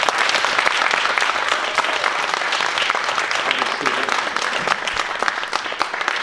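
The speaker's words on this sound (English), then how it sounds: "Please give a huge round of applause to Eddie Garcia." Vigorous audience applause for a speaker at a health summit in Washington, D.C., a loud, dense burst of many hands clapping that carries on steadily before tapering slightly.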